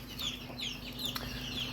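Soft, repeated clucks and chirpy calls come from a mixed backyard flock of meat chickens and egg layers, several scattered notes at moderate distance over quiet background hum.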